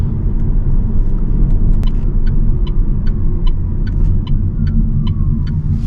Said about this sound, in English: You get a little bit of a whew sort of noise while you are slowing down, which is part of the electric bit